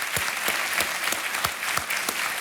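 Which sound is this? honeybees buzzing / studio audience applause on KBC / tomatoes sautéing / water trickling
studio audience applause on KBC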